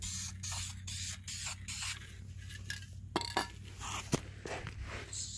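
Duplicolor vinyl and fabric spray paint applied to car carpet: a series of close, hissing aerosol bursts of varying length, interspersed with short pauses, clicks and faint scraping, with no talking.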